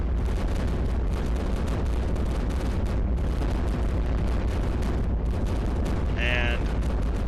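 Continuous heavy cannon fire and explosions in the World War II tower-defense game iBomber Defense: a loud, unbroken barrage of deep booms and blasts rolling on for several seconds, with a brief higher-pitched tone near the end.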